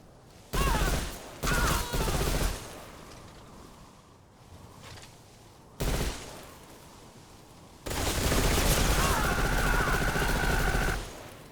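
Machine gun fire during a boss fight in Metal Gear Solid Delta: Snake Eater, heavy bursts in several loud stretches with quieter mechanical game noise between them.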